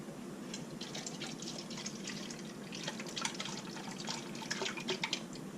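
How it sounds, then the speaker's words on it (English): Beef broth is poured into a crock pot, a quiet, steady liquid trickle with small splashy drips heard close up and alone. "you're going to want to put about 1 cup of the beef broth"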